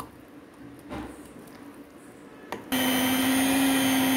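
An electric hand mixer whirs into action in beetroot cake batter, kicking in abruptly partway through after quieter mixing sounds, then running as a loud, steady, even drone until the end.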